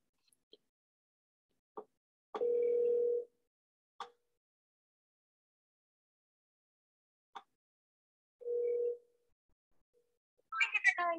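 A phone line rings while calling a pawn shop, with two separate buzzing rings and a few faint clicks between them, before a voice answers at the very end.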